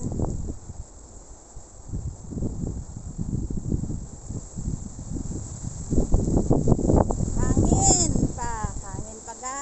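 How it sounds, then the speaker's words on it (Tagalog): Strong amihan wind gusting through banana plants, a rough, rustling roar rising and falling in bursts, with a person talking over it near the end. "Sobrang lakas ng hangin."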